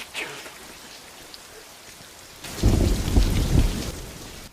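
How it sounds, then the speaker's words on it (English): Rain falls with a soft hiss before a sudden close lightning strike breaks into a loud, rumbling crack of thunder over heavy rain, in a Star Wars Andor scene. "it's a lightning strike."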